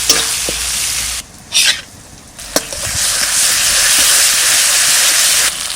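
Onions fry in hot oil in a pan for a Bengali fig-and-prawn curry, with a loud, steady hissing sizzle broken by brief pauses and the scrape of stirring.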